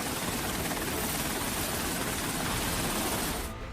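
A US-built MH-60R Seahawk naval helicopter, the kind flown by India's navy, drones loudly and steadily with dense broadband rotor and engine roar, cutting off abruptly near the end.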